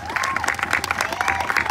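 Audience at a stage hypnosis show clapping and cheering for the hypnotized volunteers, a brief burst of dense applause with a voice over it.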